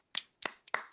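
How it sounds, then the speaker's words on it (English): Podcast hosts clap a few times in a small studio: four or five sharp, close, isolated claps in a loose rhythm, fairly quiet and with no one talking. "Let's give ourselves a round of applause."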